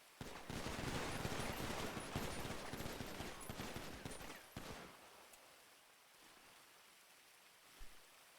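A firing squad in the GTA V roleplay server NoPixel lets off a dense volley of rapid overlapping gunshots that crackles for about four seconds, then fades to quiet with one more faint knock.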